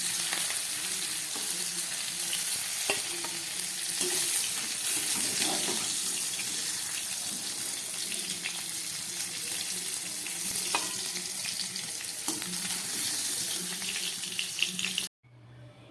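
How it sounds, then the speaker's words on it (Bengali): Green jackfruit pieces fry in hot oil, giving a steady, loud sizzle with bubbling and occasional stirring scrapes that continue without pause before cutting off abruptly. "এঁচোড় কাতলা করার জন্য আমার এঁচোড়টা খুব ভালো করে ভাজা হয়ে গেছে"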